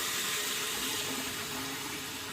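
Tap water runs steadily over a shaving razor blade being rinsed at a sink, a continuous close hiss and splash with no talking.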